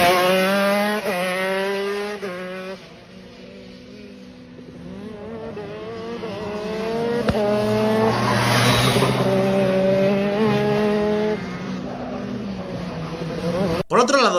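A driver drives a go-kart around his karting track, the small engine whining and shifting pitch as it accelerates and brakes through corners, fairly loud and close, with a voice talking over it.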